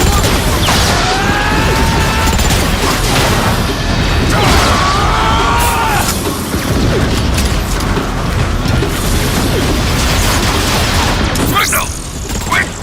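Turret cannon on a dropship in Transformers: Fall of Cybertron fires amid dense mechanical clanking and explosive bursts, loud and continuous throughout, with voices speaking over the barrage.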